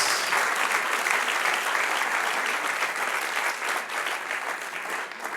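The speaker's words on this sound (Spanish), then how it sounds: "Dale un aplauso al Señor." A church congregation claps and cheers steadily for several seconds, a dense wash of applause that holds its level before easing slightly at the end.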